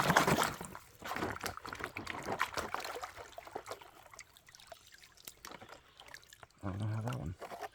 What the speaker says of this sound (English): So I'm gonna double pan it here. Right into this other pan.